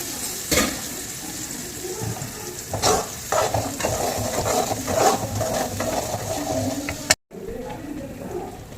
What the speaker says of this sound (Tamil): மசாலா வந்து நல்லா எண்ணெய் பிரிஞ்சு வர வரைக்கும் கிளறிட்டு